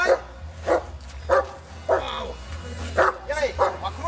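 A dog barks in short repeated bursts, roughly seven barks spaced about half a second apart at close range, with a low hum underneath and people shouting commands in between.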